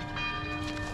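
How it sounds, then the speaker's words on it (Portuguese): Church bells ringing for mass along the Camino de Santiago near Sahagún, faint and distant, a steady metallic tone hanging over low ambient rumble. "houve-se os sinos ainda a tocar"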